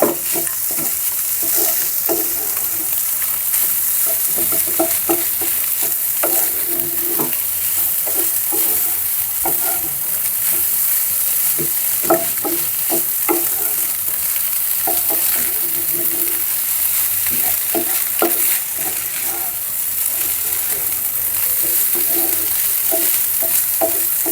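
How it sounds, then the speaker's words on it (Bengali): Rice fries in a little oil with egg, sizzling and crackling in a hot pan while a utensil scrapes and stirs it in frequent, irregular strokes, close up and steady. "একদম তেল কম দিয়ে রান্না করতেছি ভাজি করতেছি"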